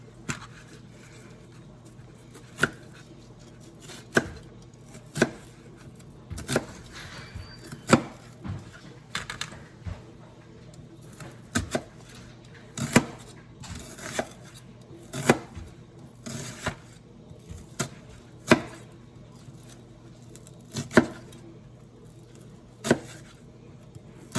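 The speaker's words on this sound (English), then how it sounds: "The way we're going to do that is kind of cut a rainbow shape, but we're going to cut strips." A knife chops an onion into strips on a board, a steady run of crisp, fairly close taps spaced about a second apart over a faint background hum, with no talking.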